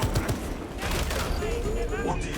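Automated turret gunfire in Warhammer 40k Space Marine 2, a dense rapid rattle of shots layered with blasts and crashes, steady and loud throughout with some talk mixed in.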